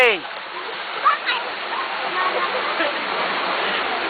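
Water splashes continuously as a child swims at a birthday outing, a close, steady spattering wash with a few sharper splashes, while an adult voice calls out encouragement over it.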